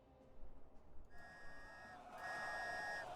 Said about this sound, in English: A whistle means there's somebody in there.